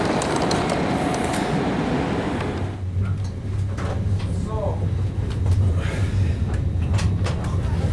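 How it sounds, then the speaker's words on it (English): A train rumbles loudly at first, then its noise drops away to a steady low hum with scattered clanks and faint station sounds. "waiting for the train and catch you on the train"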